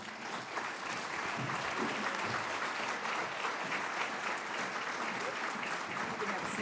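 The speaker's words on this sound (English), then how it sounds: "Let's give Edgar another round of applause" Audience applause at a talk held at the Chicago History Museum, a dense, even wash of many hands clapping that holds steady throughout at moderate distance.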